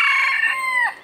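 A young yellow-colored rooster from last year's breeding flock of black mottled and blue mottled chickens crows once, loud and close, a single sustained call trailing off at the end with no talk.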